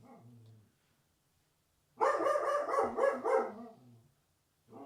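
A dog barks in a quick run of several loud, close barks lasting about two seconds, with quieter voices talking just before and after.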